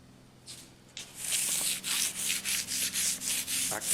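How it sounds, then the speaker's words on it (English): Close, steady sanding by hand on a car body, a rhythmic series of rasping strokes rubbing back and forth over a hard surface, with no voices. "Back to more sanding."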